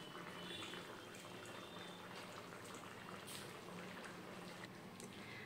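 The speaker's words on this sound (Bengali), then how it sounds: "ঝোলটা বেশ সুন্দর ফুটে উঠেছে।" A thin fish curry broth with potato, eggplant, ridge gourd and pointed gourd bubbling in a pan, a dense steady burble and hiss, close and unbroken.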